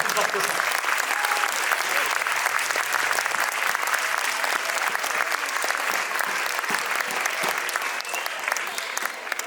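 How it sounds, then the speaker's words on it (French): Audience in a hall at a folk dance ball applauds loudly and continuously, a dense even wash of clapping that holds for the whole stretch with slight fading at the end. "on peut les applaudir encore plus fort que ça"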